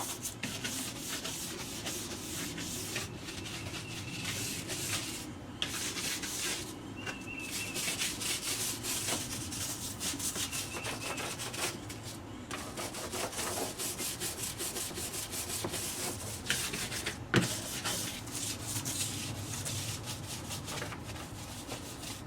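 A scrub brush works over a window pane coated in Super Clean cleaner, giving a steady, continuous rubbing and scratching texture close by, with no speech.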